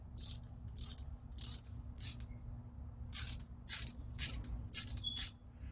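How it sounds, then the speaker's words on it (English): A ratchet adapter fitted on a breaker bar clicks in about a dozen crisp, evenly spaced bursts, loud and close, with no talking. "Put it on a breaker bar, and it turns your breaker bar into a ratchet."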